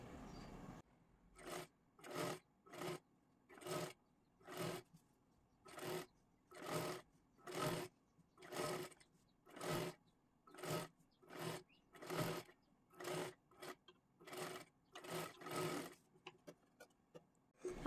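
A sewing machine stitches around a princess-cut blouse neckline in short bursts, each run of stitching separated by brief pauses in a regular stop-and-go rhythm, close and clear.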